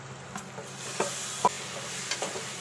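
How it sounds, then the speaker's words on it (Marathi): Chicken masala spices with turmeric, coriander powder, biryani masala and coriander leaves being stirred and fried in a pan, a soft steady sizzle broken by several sharp scraping clicks of the spoon, close and without talk. "सगळे मसाले मिक्स करून घेऊया. तरी आपण मसाले चांगले तर परतलेत आपले."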